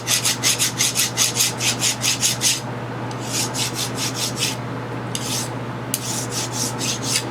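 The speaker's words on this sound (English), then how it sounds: "I'll deburr the other one." A hand file deburring a small metal governor-weight part, rasping in quick rhythmic back-and-forth strokes over a steady low hum, close up, pausing briefly then resuming in shorter bursts.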